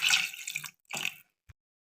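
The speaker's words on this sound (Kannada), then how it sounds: "ಸ್ವಲ್ಪ ನೀರು ಹಾಕುವ" Water poured from a cup or jug into a bowl of sweet biscuit roti batter, two short splashing pours in quick succession followed by a single soft drop, close and clear with no talking.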